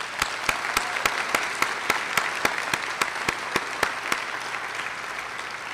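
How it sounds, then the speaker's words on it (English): An honors ceremony audience applauds families, faculty and staff: a continuous crowd clapping wash runs throughout, cut by one sharp, evenly spaced clap repeating about every quarter second close by. "A round of applause, please."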